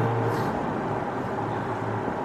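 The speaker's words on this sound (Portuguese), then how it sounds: "Cara, o motor dele é uma coisa foda. Ronca!" A car engine roars loudly and steadily up close as the car accelerates, with a continuous heavy rumble throughout.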